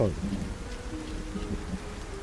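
Steady rain falls outside near a hospital, a continuous dense patter that fills the background with a faint voice mixed underneath.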